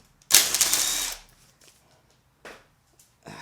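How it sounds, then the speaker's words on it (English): A ratchet wrench loosening bolts on a Mercedes SL55 AMG intercooler gives a loud burst of rapid clicking for under a second, followed by a few faint, brief clicks and knocks in a quiet workshop. "Alright, so now you can start getting all your bolts out."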